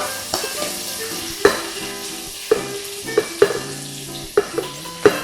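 Beef sizzles steadily as it browns in a hot frying pan while a utensil scrapes and taps against it several times at irregular intervals, close and fairly loud.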